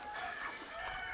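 Hens cluck and crow faintly on a self-sufficient farm in France. The short, quiet burst of poultry calls sits over a low background.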